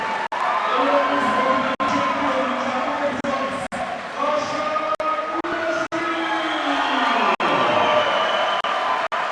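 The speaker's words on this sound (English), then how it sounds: "as you can hear our crowd, that's a Georgian, Lasha Dudashvili" A Georgian crowd at a youth judo bout in Tbilisi cheers and roars loudly and continuously, with sharp thuds and slaps cutting through the steady din and a commentator talking over it.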